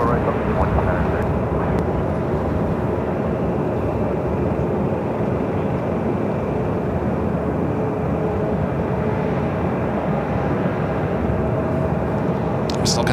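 Fixed-wing airliner landing on runway 24 right at Los Angeles International Airport, a steady loud engine roar sustained throughout with broadband rumble, heard close and continuous.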